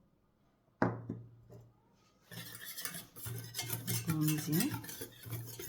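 A spoon stirs a chocolate glaze of cocoa, sugar and milk in a pot, with a sharp clink against the pan followed by scraping, swirling strokes, while someone speaks briefly over the cooking.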